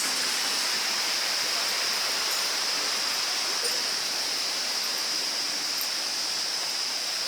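Small waterfall in Rishikesh, India, fed by Himalayan water, rushing as a steady broadband roar close by, constant and unbroken throughout with no voices.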